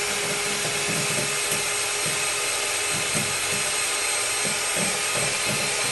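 An electric mixer whipping cream for homemade strawberry ice cream runs as a loud, continuous whir. Faint rhythmic scraping pulses repeat throughout.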